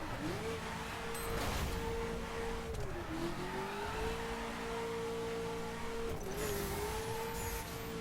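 Mercedes C63 AMG with its 6.2-litre V8 in The Crew racing game, a steady engine drone that holds a sustained note, dips briefly and climbs again at a couple of points, loud and close, with no one speaking.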